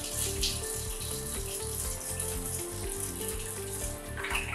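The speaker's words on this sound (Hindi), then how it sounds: "इसको नॉर्मल से पानी से धोना है, कुछ साबुन या ये सब लगाना नहीं." Plain tap water running and splashing as a face pack is rinsed off at a sink, a steady close splashing wash with no talking.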